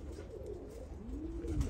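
Malfazar pigeons cooing softly nearby, a couple of low rolling coos over a quiet background hum.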